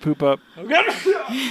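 A single short human sneeze bursts out in an indoor podcast setting, sharp and close, with people talking around it.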